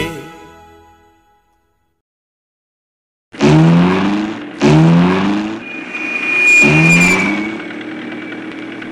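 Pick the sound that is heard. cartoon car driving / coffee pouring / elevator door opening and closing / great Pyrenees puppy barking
cartoon car driving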